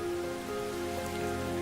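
Steady rain falls over open savanna grassland as a constant, even patter with no distinct drops standing out, and no voices can be heard.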